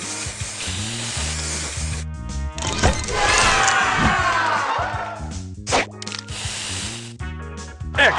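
A spray booster effect in the Seadogs Scallywags mobile game gives a bright hissing, sizzling burst that swells across several seconds, mixed over steady game music with short whacks and chimes.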